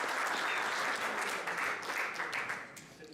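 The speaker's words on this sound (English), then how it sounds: "Let's give these guys a round of applause." A conference audience at the OpenSIPS Summit in Bucharest applauds, a dense, steady clapping that fills the room from the start and tapers off slightly toward the end, with no voices over it.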